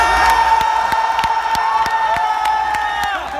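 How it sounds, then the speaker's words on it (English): A large event audience cheers and whoops loudly at a video game trailer reveal, with a continuous crowd roar throughout and a sustained tone running underneath. "The audience applauded even louder."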